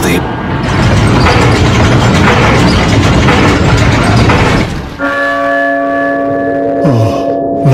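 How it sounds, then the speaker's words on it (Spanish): Church bell tolling in Resident Evil 4, heavy ringing bell tones with a long decay that follow loud, chaotic noise from a crowd of villagers, the clanging bell standing clear and loud in the second half. "¡Oh! ¡La campana!"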